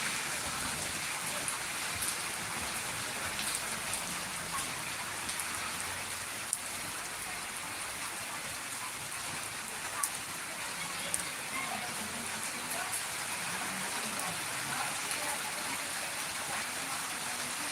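Steady unseasonal rain falls in Jambughoda, a dense even hiss of drops on surfaces with water running, continuous and fairly close throughout, no voices.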